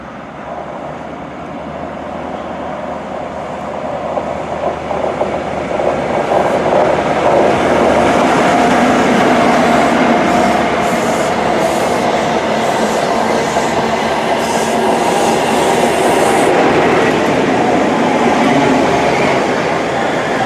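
A train running through Larbert station in Scotland, a steady loud rumble that builds and holds throughout with faint clatter over it, close and continuous, with no voices.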